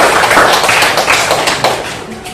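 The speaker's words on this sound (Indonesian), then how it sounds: "Tepuk tangan." A classroom full of people claps together in steady applause, loud and close, lasting a couple of seconds.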